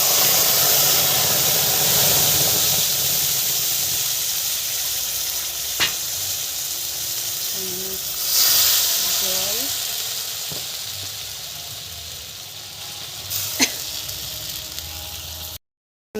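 Cumin seeds and a ground spice paste sizzle in hot oil while a Bengali rohu fish curry is cooked, a steady broadband hiss running throughout with a few sharp clinks of a utensil against the pan.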